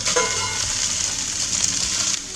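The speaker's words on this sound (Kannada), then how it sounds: "ತೆಂಗಿನಕಾಯಿ ಆ್ಯಡ್ ಮಾಡಿಕೊಂಡು ಜಸ್ಟ್ 1-2 ಸೆಕೆಂಡ್ ಇದು ಫ್ರೈ ಮಾಡೋಣ" Grated coconut fries in a pan for coconut rice, giving a steady close sizzle that runs unbroken from start to end, with no talking.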